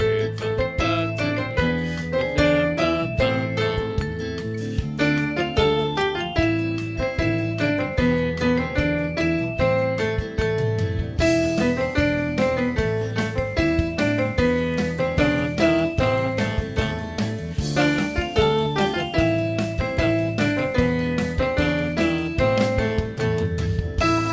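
The Tetris theme played on piano: a lively, bouncy tune with steady rhythmic chords underneath a quick melody, continuous and fairly loud throughout.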